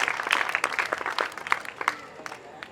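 A small audience claps for performers at a stage event, a brief ragged burst of scattered hand claps at close to medium distance, uneven and loosening as it goes.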